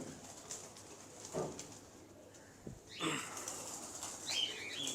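A pigeon flaps its wings in a short flurry near the microphone, followed by soft cooing and faint chirps in the background.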